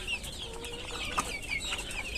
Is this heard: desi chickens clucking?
yes